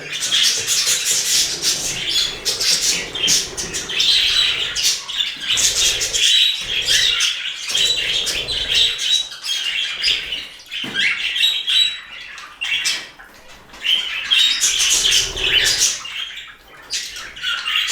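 A cluster of budgerigars chirps and chatters busily, with rapid squabbling calls and brief pauses, close and loud throughout.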